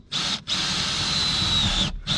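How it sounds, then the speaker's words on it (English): A power drill bores through a street car's floor while a three-point harness is fitted, a loud steady high whine running continuously with two brief pauses. "So let's get the drill out and work our way up"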